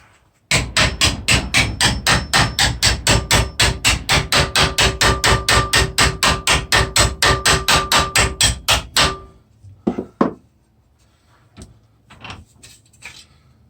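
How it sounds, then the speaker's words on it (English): A metal part clamped in a vise is struck with a hammer in a fast, steady run of about forty sharp, loud, close blows. A few scattered knocks follow after a pause. "And start hammering."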